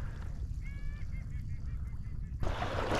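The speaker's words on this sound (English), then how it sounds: "We have ducks interrupting" Ducks call from the air while flying in during a South Florida public land duck hunt, a few nasal honking calls at moderate distance over steady outdoor wind noise, with no talking.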